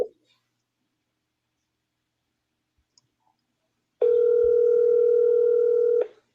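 A single steady ringback tone plays over a phone on speaker for about two seconds, loud and alone after a long near-silent stretch with a faint click.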